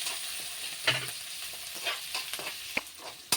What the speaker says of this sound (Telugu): ఇవన్నీ కూడా ఫ్రై అవ్వనివ్వాలి.